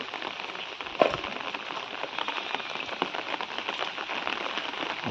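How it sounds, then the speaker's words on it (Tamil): Heavy rain pounding down on a village home, a dense, steady roar of drops hitting surfaces, with one sharper impact near the start. "மழை பெஞ்சுக்கிட்டே இருக்குப்பா சரியான மழை அடிச்சு நொறுக்குது"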